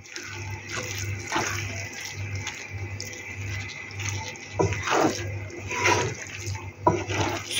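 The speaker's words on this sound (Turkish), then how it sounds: "Su koyduk." Water poured into a pot of browned oil and egg noodles (erişte) on a stove, a steady splashing pour with a few louder gushes near the end, close and alone with no talk.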